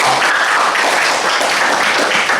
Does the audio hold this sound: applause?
yes